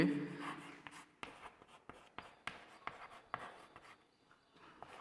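A pen scratching out an equation on paper, a series of close, soft strokes and taps in irregular rhythm, quiet and alone without talk.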